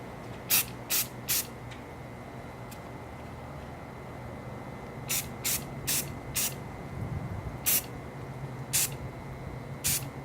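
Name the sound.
matte black spray paint sprayed on Nerf gun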